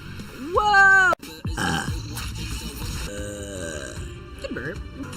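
A loud, drawn-out burp with a rising, wavering pitch rings out near the start, followed by an abrupt cut and then people chattering and exclaiming over lighter vocal noises.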